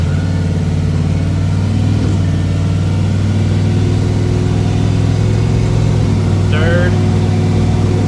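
A 1968 Chevy C10 with a turbocharged LS 5.3 engine pulling through its gears: a loud, close, steady engine drone with shifting tones and a brief whistling turbo note near the end, a voice speaking over it.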